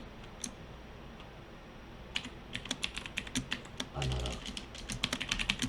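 Someone types a layer name on a computer keyboard: irregular bursts of close, clicky keystrokes with a brief low thump partway through, all over a faint room hum.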